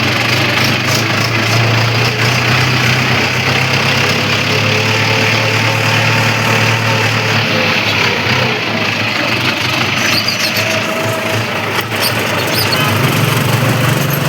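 Mahindra tractor engine running steadily at close range, a loud, even low drone with a constant hum that holds without a break throughout.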